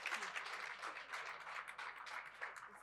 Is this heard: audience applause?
yes